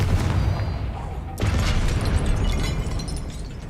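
A Confringo blasting spell from Hogwarts Legacy going off with a sudden loud boom about midway, its rumbling blast sustaining to the end over ongoing game ambience.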